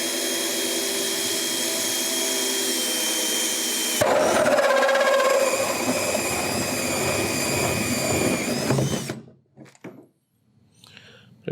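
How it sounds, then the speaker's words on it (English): A hole saw cuts a hatch opening into the plastic hull of a Hobie Mirage Passport 12.0 fishing kayak. A loud drill whine comes first, then a harsher grinding squeal as the teeth bite, and it stops abruptly into near silence. "Use my hole saw to create the opening, which will make it easier to start my cut with the jigsaw"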